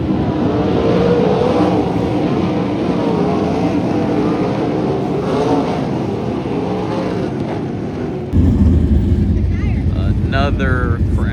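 Loud 950-horsepower sprint car engines roar continuously on a dirt track with wind buffeting the microphone, the sound dipping and then jumping louder near the end; people talk over it.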